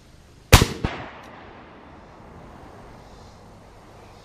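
A 250-grain 454 Casull round fired from a Taurus Raging Judge Magnum revolver outdoors, one sharp, loud blast followed by a quick echo and a fading outdoor tail.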